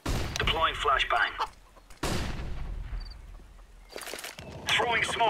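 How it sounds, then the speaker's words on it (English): A flashbang grenade goes off in Counter-Strike on the Inferno map, one sudden sharp bang that fades out, between stretches of game voice callouts and clatter. "I throw flashbang"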